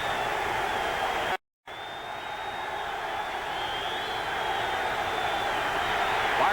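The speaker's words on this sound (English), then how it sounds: "Listen to the San Diego crowd now as they try to fire up their defense" Sustained roar of a San Diego football stadium crowd cheering to fire up the defense at a 1979 Falcons–Chargers game, broad and steady, briefly cut out then swelling slightly louder.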